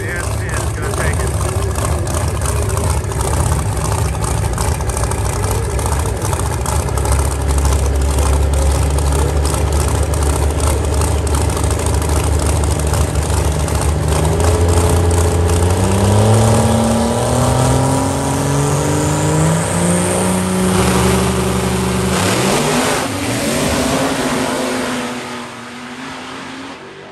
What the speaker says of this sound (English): Who's faster, gas or diesel? Quick 8 shootout, Crossville Dragway, Rocky Top Diesel Shootout.